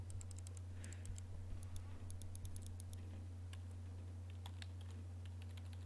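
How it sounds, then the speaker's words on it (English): Computer keyboard keys click in short irregular bursts in the visual novel Everlasting Summer, fairly close and crisp over a steady low electrical hum, with no one speaking. "Yep, that's a keyboard."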